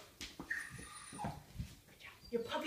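A puppy whimpers and yips in short, thin cries scattered through the moment, close by and moderately loud.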